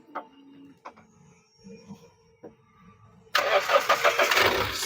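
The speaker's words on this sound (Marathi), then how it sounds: "गाडी स्टार्ट झालेली आहे, पाहू शकता" Mahindra Scorpio engine starting: a few quiet clicks and whirring cranking noises, then the engine catches abruptly and settles into a loud, close, rough idle.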